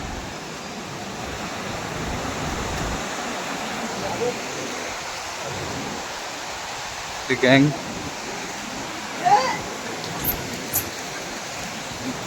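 Shivthar waterfall near Mahad roars as a steady broad rush of falling water throughout, with brief voices and a few short knocks breaking through near the middle.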